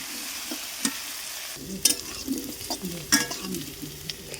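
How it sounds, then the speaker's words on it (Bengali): Potatoes frying in a pan with salt, a soft sizzle broken by scraping stirring strokes and a few clanks of the utensil, close and moderately loud, with no voices. "আলুগুলোকে নেড়ে চেড়ে লাল লাল করে ভেজে নেব"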